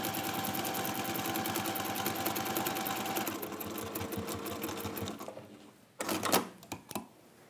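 A sewing machine topstitches with orange thread, running in a steady rapid mechanical rhythm for several seconds close by, then slowing and stopping, followed by a few brief clunks and handling noises.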